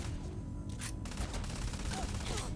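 Rapid bursts of gunfire from a firefight in the space role-playing game Starfield, dense overlapping shots and booms running continuously at close range with no talk.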